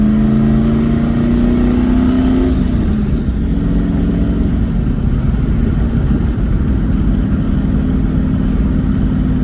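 A turbocharged Ford Ranger with a 5.0 engine drives along, its engine note loud and close, holding a revving tone that eases off after a couple of seconds into a steadier, lower cruising drone.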